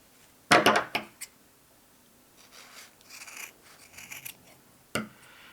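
Scissors snipping a craft pom-pom for an Easter chick, with a few sharp close cuts early on followed by softer rustling and trimming, then one more crisp snip.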